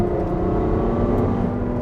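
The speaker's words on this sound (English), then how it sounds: "Of course, we got that V12 sound." A Ferrari FF V12 engine, 8250 rpm redline, gives a steady, loud, full-bodied drone from inside the car, heard alone and without talk.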